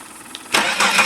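A car engine cranks briefly and then catches, rising into a loud running roar that lasts to the end; half of its spark plug leads are off.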